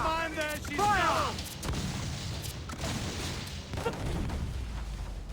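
Ship cannons fire in Assassin's Creed IV: Black Flag, deep booms rolling under a continuous sea-battle rumble, with a shouted voice and tonal calls early on.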